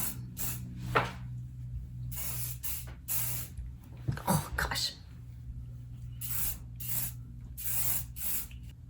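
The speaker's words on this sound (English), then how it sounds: "we're just gonna like spray this all over" Repeated short hissing bursts of an aerosol hair spray, several sprays in quick succession with pauses between, close by.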